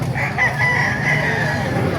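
A rooster crows with a drawn-out call over a busy background of chatter and crowd noise at a chicken market in Baliuag, Bulacan.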